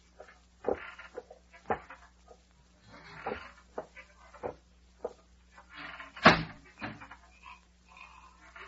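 A creaky porch swing sways in a radio drama scene, giving a rhythmic series of short, scraping creaks about once a second. Some creaks are louder than others, and there is light background hiss between them.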